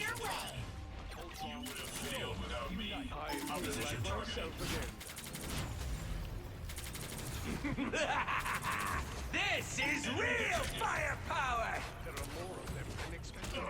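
Ultron fires in the video game Marvel Rivals: rapid bursts of energy shots and mechanical whirring pile up in a busy fight, mid-loud, while someone talks over the action.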